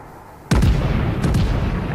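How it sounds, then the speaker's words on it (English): Battleship Bayern firing its main guns in World of Warships, a sudden loud booming salvo followed by a second pair of heavy reports, over a continuous rumbling game background. "I'm going to pull out the game-winning shot here"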